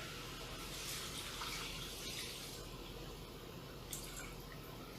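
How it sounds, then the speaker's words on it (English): Water pouring into a pot of rice and garlic for pilaf, a steady faint stream trickling in a home kitchen with no talk. "We're gonna add about 3 cups of water."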